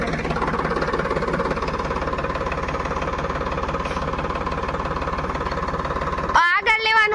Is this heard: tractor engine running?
yes